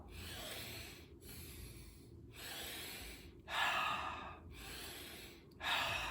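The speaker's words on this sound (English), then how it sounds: "10 to 20 alkaline breaths through your nose, out the mouth." Deep breathing paced in cycles: breaths drawn audibly through the nose and pushed out through the mouth, close and soft, with airy exhales swelling louder in the later cycles and brief quiet gaps between breaths.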